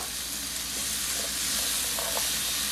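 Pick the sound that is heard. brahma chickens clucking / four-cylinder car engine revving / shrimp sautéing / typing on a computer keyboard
shrimp sautéing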